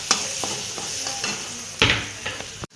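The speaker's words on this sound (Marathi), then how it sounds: "त्याला 2 मिनिटं चांगला हलवून घेऊ आपण असं।" Spicy masala sizzles in a pan while a spoon stirs and scrapes it, a few sharp clinks against the metal over a steady frying hiss, ending abruptly.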